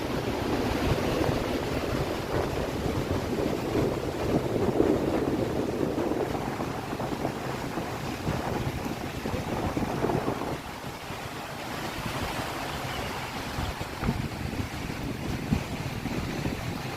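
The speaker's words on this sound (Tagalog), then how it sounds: "masyadong maalon po ngayon at meron po tayong bagyo ngayon dito sa Daet" Strong typhoon wind buffets the microphone while rough, high sea waves surge and crash continuously along the coast of Daet, Camarines Norte, with no voices heard.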